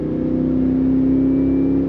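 A supercharged Cadillac Escalade-V engine gives a steady, close, low rumble with a faint mechanical whine on top, heard alone without any voices.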